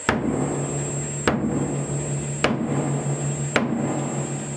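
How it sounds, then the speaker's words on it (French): A hammer taps a wooden wedge against a wine tank door in an Alsace organic winery: four sharp, evenly spaced knocks about a second apart over a steady mechanical hum. "il va falloir taper à l'aide d'un marteau et d'une cale en bois"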